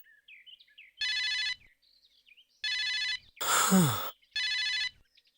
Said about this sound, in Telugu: రే ఫోన్ వచ్చింది చూడు